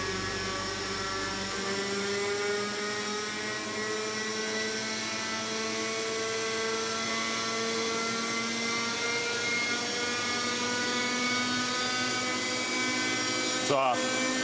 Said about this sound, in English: soon returns with his own model chopper